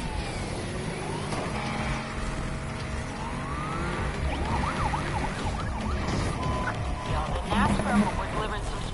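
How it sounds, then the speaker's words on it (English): Police car sirens wail in the Need for Speed Heat racing game, rising and falling repeatedly over rumbling car engines, with voices talking over the chase. "Flip on the sirens and get after them."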